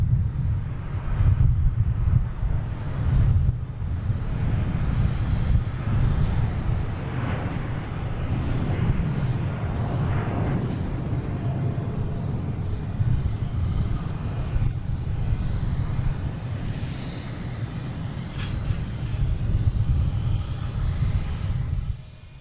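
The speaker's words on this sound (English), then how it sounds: "All right, we got Delta taking off to Paris. Oh wow, a lot of sound." A Delta Airbus A330-900 bound for Paris takes off at Boston Logan International Airport: a loud, sustained jet roar that swells and holds for over twenty seconds, with some wind buffeting on the microphone.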